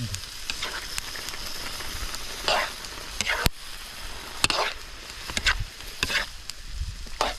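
Meat and palm heart (ubod) stirred in a cooking pan, with steady sizzling and frying under repeated scraping, clattering stirs of a utensil at an irregular rhythm, close by.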